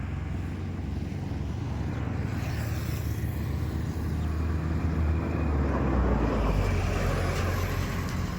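A manual car creeps slowly and steadily into a garage, its low engine rumble and road noise holding a continuous, fairly loud drone with no talk over it.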